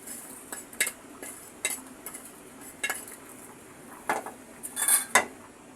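Roasted sesame seeds are lifted out of a pan, bringing a run of metallic clinks and scrapes of utensils against the pan, sharp and spaced irregularly, clustered toward the end, over a quiet background.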